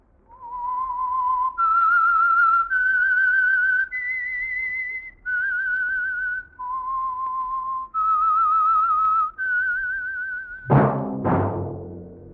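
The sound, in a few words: whistled theme tune of The Whistler radio program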